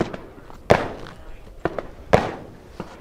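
Three sharp rifle shots from a .223 firing 55-grain frangible rounds at steel targets, spaced unevenly about a second and a half apart, each a loud crack with a short ringing tail over a quiet outdoor background.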